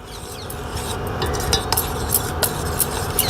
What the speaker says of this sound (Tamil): நல்லா கட்டி பிடிக்காமல் கரைச்சி விடணும்.